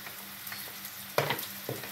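Vegetables sautéing in a pan give a steady close-up sizzle, with a few louder bursts of stirring scrapes partway through.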